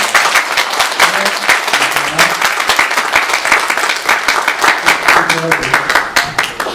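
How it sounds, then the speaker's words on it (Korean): A church congregation at a Sunday worship service breaks into sustained, dense applause, many hands clapping loudly and evenly throughout. "오늘 세 번째로 다시 한번 박수 쳐주시면 감사합니다"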